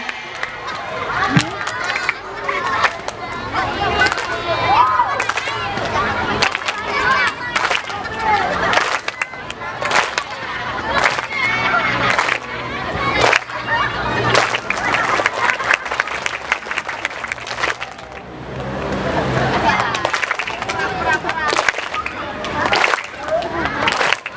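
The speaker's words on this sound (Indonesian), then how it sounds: "Sekarang tepukannya sesuai gerakan saya ya." An audience at a Maulid Nabi religious gathering claps in bursts that follow a preacher's cues, with crowd noise and a voice talking between the rounds of applause.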